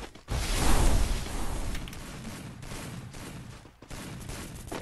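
Bursts of video game gunfire with booming low rumble, several rapid volleys and shots with short pauses between them.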